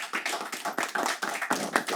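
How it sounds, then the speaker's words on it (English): A small audience at a domestic violence panel with safety officers claps for the panelists, a sparse, uneven patter of individual hand claps, close and fairly quiet, with no voices over it. "Give them a round of applause."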